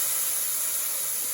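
Tomatoes dropped into hot oil in a pan while cooking covo, giving a steady, bright, loud sizzle with even hiss throughout the short moment.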